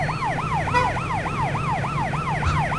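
A police car siren in the video game Arma 3 wails in fast, regular rising-and-falling sweeps, loud and close, repeating steadily over a low engine rumble.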